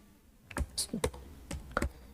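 Quick keystrokes on a computer keyboard while CSS gradient code is typed, a short burst of about eight close, crisp clicks in uneven rhythm with small pauses between.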